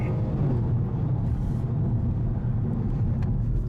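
A 2022 BMW 135i with xDrive pulls hard during a 0 to 60 run, its engine roar and road rumble loud and steady throughout with no talking.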